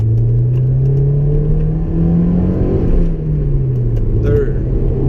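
Honda S2000 engine pulling in second gear on a test drive, a steady rising drone with a bright harmonic climbing through the pull, loud and close from inside the cabin, with a brief dip near the end.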